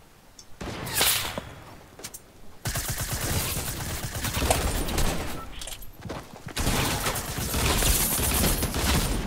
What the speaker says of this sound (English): I hate SMG so much